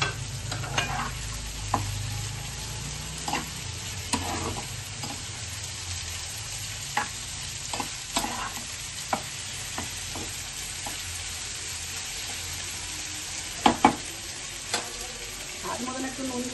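Thinly sliced potatoes fry in a pan for a fish recipe, giving a steady, close sizzle. Occasional light stirring taps and scrapes break in now and then, with no voices.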